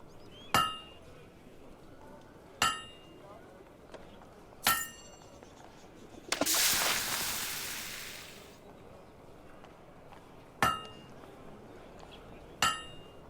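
A hammer strikes a blade at a forge in Fable II: sharp metallic clinks ring out one at a time at slow, uneven intervals, with a longer hissing burst in the middle, fairly close and clear against a quiet background.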